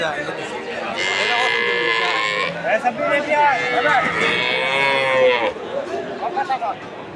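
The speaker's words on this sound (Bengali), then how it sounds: "গাই গরু" Cows, including Jersey dairy cows, mooing loudly nearby at a cattle market in Kaliganj, Gazipur, several long drawn-out calls amid a busy crowd with people talking in the background.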